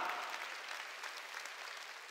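A congregation applauding together during a Wednesday evening church worship service, dense steady clapping from many hands filling the room and holding evenly from start to finish.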